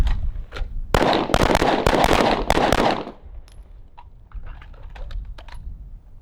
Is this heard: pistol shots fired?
yes